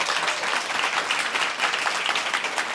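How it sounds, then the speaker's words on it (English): A crowd applauds warmly at a Main Street Rising business pitch event in Los Angeles, dense sustained clapping filling the room throughout at an even, loud level. "can we give them a big round of applause?"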